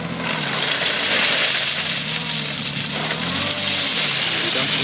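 A dumper truck driving over clean angular stone infill laid over Cellweb at a tree root protection site: a steady, close mid-pitched engine roar with rumbling and rattling from the ground, under faint voices.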